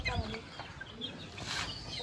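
Chickens cluck close by in a backyard coop, short uneven bursts of clucking over murmuring voices and background noise.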